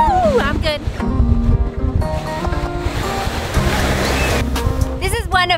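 Ocean surf rolls in steadily at Papakōlea Green Sand Beach on Hawaii's Big Island, a continuous wash of waves with wind buffeting the microphone and brief voices calling out over it.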